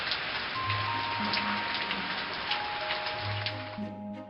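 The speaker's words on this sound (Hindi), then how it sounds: "बहुत जबरदस्त बारिश होने लगा।" Heavy rain pours down in a steady, loud, dense hiss with a continuous wash of drops and a faint low hum underneath, constant throughout.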